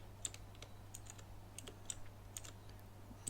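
Quick bursts of computer keyboard typing as a print command goes into Python code, light clicky keystrokes in short irregular runs over a steady low electrical hum.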